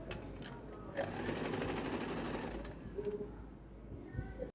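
A sewing machine stitches double-wefted hair bundles, running steadily for several seconds in a dense mechanical whir, then slowing and stopping near the end.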